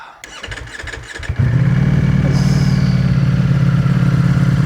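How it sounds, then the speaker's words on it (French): A 2023 Ducati Panigale V4S four-cylinder engine cranks briefly, then catches and settles into a loud, steady, throbbing idle close to the microphone. "nous allons démarrer l'engin parce que j'ai quand même envie de vous partager ce bruit de moteur"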